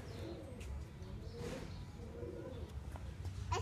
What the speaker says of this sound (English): There's some pigeons running around.